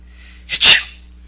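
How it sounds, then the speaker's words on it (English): A single close sneeze: a brief intake followed by a sharp, explosive burst, then quiet. "You've been sneezing a lot lately."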